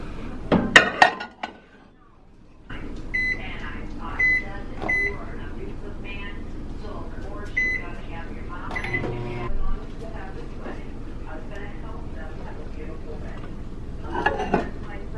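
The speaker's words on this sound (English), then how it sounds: "Someone left their coffee in the microwave." A microwave oven reheating coffee hums quietly in a kitchen, with sharp electronic beeps near the start and scattered beeps and clinks later, a voice speaking briefly at times.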